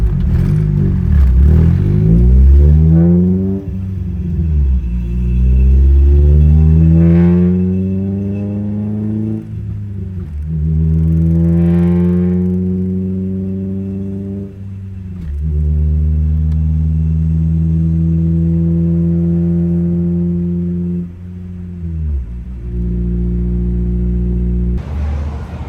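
A Honda Civic EG with a GSR engine swap pulls away and accelerates through several gears, its engine note rising in long sweeps and dropping at each shift, loud and close with no talk.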